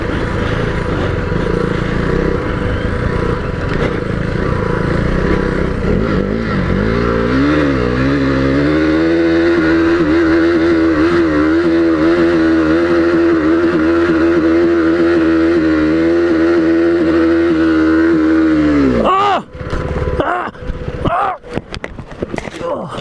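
A KTM 390 Duke motorcycle engine drones loud and steady up the steep Widowmaker hill, its pitch wavering and rising under load before cutting out abruptly near the end, followed by scattered knocks and rustles.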